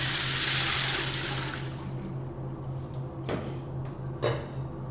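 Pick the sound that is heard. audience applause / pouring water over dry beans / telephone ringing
pouring water over dry beans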